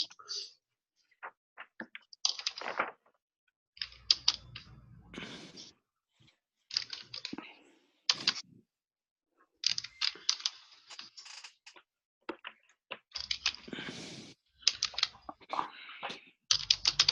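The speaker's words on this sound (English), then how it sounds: "Now, in this moment, I'm typing an example for you." Fingers type on a computer keyboard in close, crisp bursts of key clicks, broken by short pauses and quiet gaps, with no talking.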